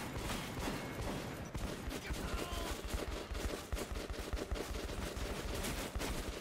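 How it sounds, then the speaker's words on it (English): Enemies open fire in Metro 2033, dense, continuous automatic gunfire with rapid overlapping shots that fill the whole stretch loudly and without a break. "They shooting!"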